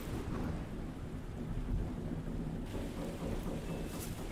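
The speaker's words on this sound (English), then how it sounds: "that was actually like really good thunderstorm sound effects" Thunderstorm effect in the Gothic Clicker video game: a steady wash of heavy rain with deep, rolling thunder rumbling underneath, loud and continuous with no voices.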